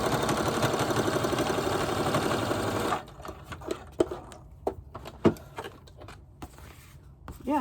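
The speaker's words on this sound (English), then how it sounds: "now we're going to sew right through the center" A sewing machine stitches through the center of a junk journal signature made of paper and recyclables, a fast steady mechanical whir for about three seconds, then scattered clicks and handling noises as the machine stops.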